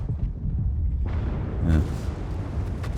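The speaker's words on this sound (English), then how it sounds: "Doesn't really seem worth firing HE, does it, in this tank?" A tank cannon firing a high-explosive round in a video game, a deep booming blast with a rumbling tail, loud and close, beneath someone speaking.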